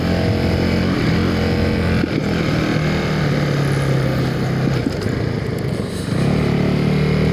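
A 2025 Honda CRF450RL dirt bike engine runs with a loud, steady drone throughout, with only a slight dip near the end and no talk over it.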